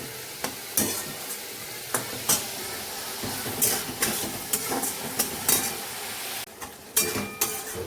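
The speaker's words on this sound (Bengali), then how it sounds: "এদিকে আমার কাকি মাছের এটাও কষানো চলছে আরও সময় লাগবে আস্তে আস্তে করে" Dried fish (shutki) is slowly sautéed in spices with turmeric and dried chilli in a pan, a continuous sizzle punctuated by regular sharp spatula scrapes and knocks against the metal.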